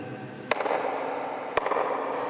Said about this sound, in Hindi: मैं ऐसे कपड़ा बजाऊं यहाँ पर तो उसकी एक गूंज पैदा होती है